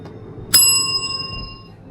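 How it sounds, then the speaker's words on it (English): A single metal reception bell struck once at a hotel check-in desk in Phetchabun, Thailand, giving a bright ding with a ringing tone that decays over about a second. "Let's ring the magic bell."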